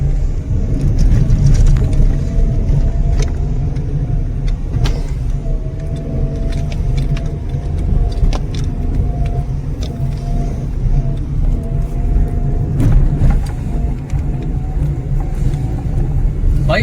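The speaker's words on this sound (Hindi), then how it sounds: "भाई फर्स्ट गियर में गाड़ी ऊपर चढ़ रही है, पूरी क्लच प्लेट की हालत खराब हो रही है।" Car grinding uphill in first gear on a one-way road to Kachargad caves, Darekasa, Amgaon, with a steady low engine rumble and strained clutch droning throughout, intermittent knocks and rattles, and voices speaking over it.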